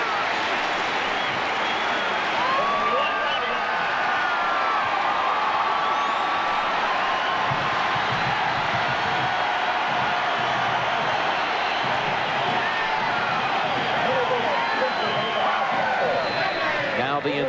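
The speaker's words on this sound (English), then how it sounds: "Now the entire crowd on its feet" A football stadium crowd at a 1990 Michigan at Notre Dame college game roars and cheers steadily, a loud sustained wash of noise under a commentator's voice.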